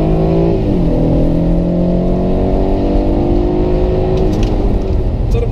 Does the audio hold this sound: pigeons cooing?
no